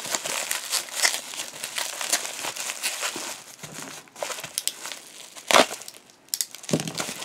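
Packing peanuts inside a box are handled and pulled out, giving a steady, close, dry crinkling and rustling with scattered sharp crackles and brief pauses, without any voice.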